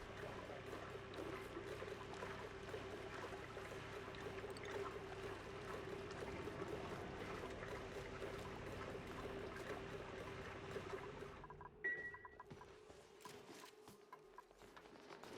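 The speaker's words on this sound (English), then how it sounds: "Add some more water in." Water pouring in the video game Oxygen Not Included, a steady soft gushing stream that runs for most of the stretch before cutting off and leaving faint trickles.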